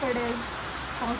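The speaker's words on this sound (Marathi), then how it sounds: "गावातला पाऊस" Steady village rain patters on a surface as a continuous wash of noise, with a voice speaking briefly over it.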